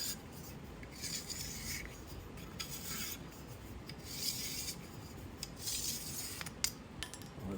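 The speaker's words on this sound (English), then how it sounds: "you need to chalk the hell out of it like this" Chalk rubbed onto a wooden barrel stave freshly ground with a 60-grit grinder, a steady faint dry scratching with short brighter strokes repeating throughout, no talk.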